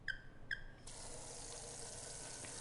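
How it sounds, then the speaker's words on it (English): Two short chime tones, then water from a faucet gushes into a sink in the game Spirit Hunter NG, a steady, moderately quiet rush that continues to the end. "Water begins running into the sink."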